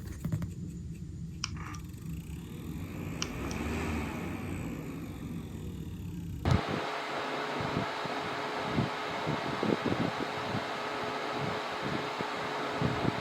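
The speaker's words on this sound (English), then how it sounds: "the fan makes a lot of noise for the least amount of wind speed" A standing fan runs with a steady, noisy whoosh of airflow and motor hum, continuous and fairly close, with a slight change in tone partway through.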